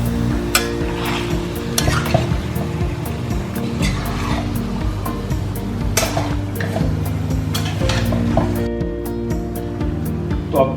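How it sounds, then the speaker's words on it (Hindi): Chicken mixed with spices and salt cooks in a pan, stirred now and then, with a steady close sizzle, scraping utensil strokes and clinks throughout. "चिकन को मसाले के साथ हमने मिक्स कर दिया है और अब इसे पकने के लिए छोड़ेंगे"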